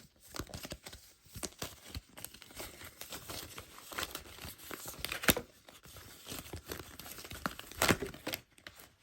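Tarot cards are shuffled by hand in a continuous papery riffle and flutter, with quick crisp snaps as cards slip and pop out, close and fairly quiet, with no talking.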